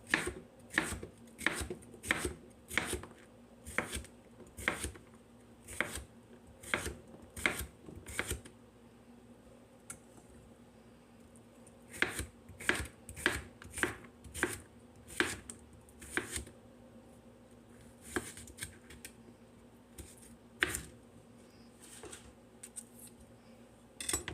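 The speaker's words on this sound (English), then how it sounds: "I'm going to cut this into quarters and slices" A knife chops food into quarters and slices on a cutting board, with a run of sharp, evenly spaced cuts, then a short pause, then a second burst of cuts.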